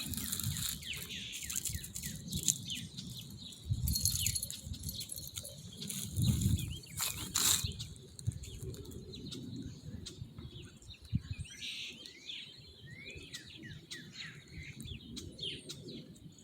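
Birds chirp and tweet in a backyard in eastern Pennsylvania at sunset, scattered calls coming from a little distance, with some cooing and a low rumbling background throughout.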